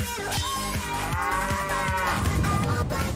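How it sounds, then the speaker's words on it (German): Giant halberd-wielding cows in the Diablo cow level moo loudly and continuously, several lowing calls overlapping in a dense, rumbling chorus over game sound with no talk. "Auf einmal riesige Kühe mit Hellebarden bekämpfen musste."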